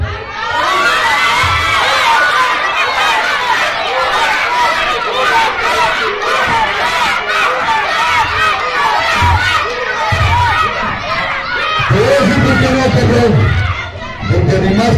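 Arena crowd at a lucha libre match in Magisterio Arena shouting and cheering loudly and continuously, a dense roar of voices with children's shrieks throughout, swelling near the end.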